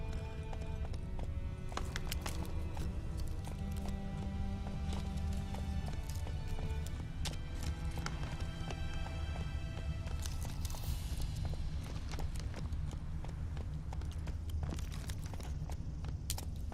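Hooves of Roach, a horse in The Witcher 3, beating in a steady quick clip-clop as the horse runs on and on, close and continuous, with occasional snorts and faint game sounds behind it.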